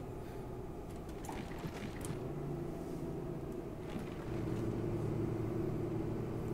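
A 2021 Mercedes Travego coach's engine labouring up a hill on a winding road, a low steady drone and rumble with faint rattles, rising slightly toward the end, no voices.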